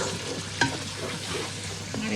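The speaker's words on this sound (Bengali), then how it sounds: "এবার এইদিকে আমি মশলা কষায় নিচ্ছি" Spices sauté in a frying pan while a utensil stirs them, a gentle sizzle punctuated by a few sharp scraping clinks, close and fairly quiet, with no speech.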